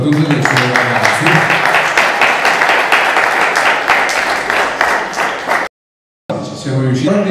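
Applause for a youth junior football team at a sports club presentation, a crowd clapping loudly and continuously under a faint voice, briefly cut to silence before the clapping resumes.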